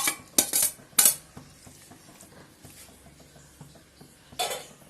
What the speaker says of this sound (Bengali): So I'll add the marinated chicken on this, into this, and mix everything together.